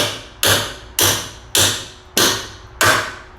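A hammer striking a threaded-on nut to drive a knurled bolt out of a car's rear trailing arm bushing, five loud sharp metallic blows at a steady rhythm, each ringing out briefly, with no talking.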